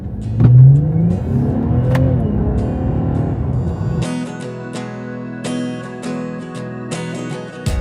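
A turbocharged truck engine accelerates hard and loud, rising in pitch through the gears, then settles into a steady high cruising drone with interior rattles.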